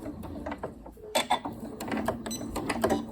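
A sewing machine back stitching a cushion gives short bursts of mechanical stitching with brief pauses and clicks, fairly quiet and close.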